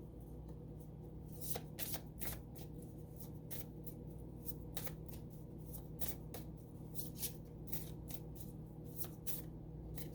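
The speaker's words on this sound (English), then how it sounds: "Oh, I shouldn't be shuffling that way." Cards riffle and snap together in quick repeated bursts, a close, crisp shuffling of a reading deck that goes on steadily with no talking.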